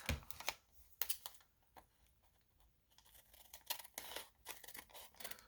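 Scissors snip through scrap paper while trimming the bottom off a window envelope, several quick, close crisp cuts with short rustling pauses between them.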